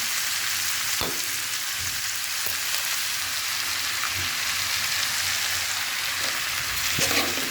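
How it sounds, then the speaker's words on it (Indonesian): Steady hiss of oil frying in a pan while making chicken-liver vegetable lumpia, with a few soft taps near the start and end, close and continuous with no talk. "kemudian kita mau ceplokkan telurnya ya"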